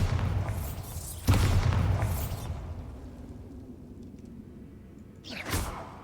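A Bombarda explosion spell goes off in a Harry Potter video game: one sudden booming blast with a whooshing burst, then a rumbling tail that fades, followed by another softer swoosh a few seconds later.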